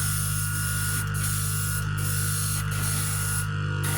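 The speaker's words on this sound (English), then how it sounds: "you guys hear the compressor? No skips, no hops, no issues whatsoever." A Gaahleri Ambition Series airbrush compressor runs nearby with a constant, loud, even hum and no breaks, while a faint hiss from the airbrush rises and falls a few times.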